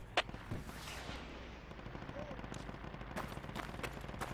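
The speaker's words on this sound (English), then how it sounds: "I think somebody just tried shooting an RPG at me." An RPG is fired at the player in the Project Reality military video game, with a sharp launch burst near the start followed by ongoing crackling gunfire and battlefield rumble.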